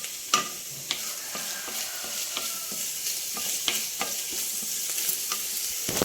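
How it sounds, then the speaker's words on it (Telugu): Food frying in a pan for a quinoa vegetable egg pulao, a continuous soft sizzle punctuated by irregular light stirring taps and scrapes. "ఇది కొంచెం వేగనిద్దామండి"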